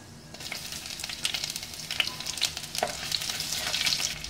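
Continuous crackling sizzle of chopped shallots frying in hot oil with fenugreek seeds, close and fairly even, with small pops scattered throughout.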